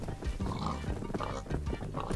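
Pigs grunting in the video game Minecraft, short low oinks mixed into a busy stream of game sounds and movement across the whole stretch.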